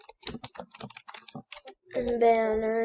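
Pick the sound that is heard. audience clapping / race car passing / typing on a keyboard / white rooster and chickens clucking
typing on a keyboard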